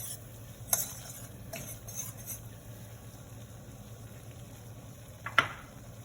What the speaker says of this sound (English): When you add flour to the butter, stir it with a whisk and let it cook in there a little bit.